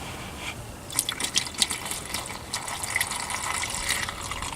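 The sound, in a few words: pouring liquid into heater core inlet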